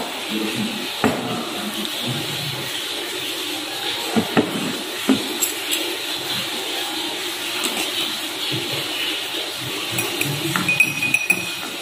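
A spoon stirring syrup and sugar in a glass in a simple school science experiment: repeated light clinks against the glass, close and fairly clear, with no talk.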